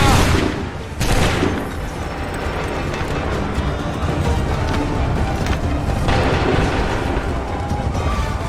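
Musket volley in Assassin's Creed 3, a sharp crackling burst of massed gunfire at the start and again shortly after, followed by a sustained din of battle noise with scattered shots.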